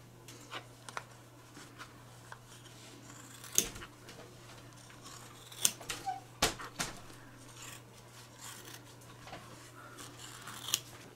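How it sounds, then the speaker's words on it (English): Scissors snip around the edge of an embroidered lamb piece made as Kimberbell hoop decor, with scattered quiet cuts and a few sharper crisp snips over a faint steady hum. "now I'm going to take my scissors and trim these two all the way around"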